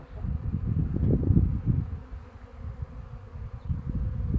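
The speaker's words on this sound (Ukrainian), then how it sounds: "дуже бджоли розліталися" Buzzing of many bees flying close by, a fluctuating low hum that swells and fades, quiet and without voices.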